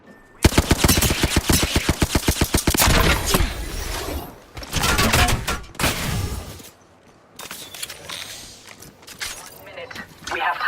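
Rapid bursts of automatic gunfire in Apex Legends, a loud, fast volley followed by scattered shots and impact clatter, then quieter gameplay ambience with a voice speaking between the bursts.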